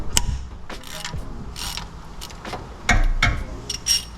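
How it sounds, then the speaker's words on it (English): A 14 mm wrench loosens the timing belt tensioner bolt on a Daihatsu Hijet engine, giving scattered close metallic clicks, ratcheting and tool knocks with brief pauses between them. "Next, we're going to take a 14 and just loosen this tensioner bolt."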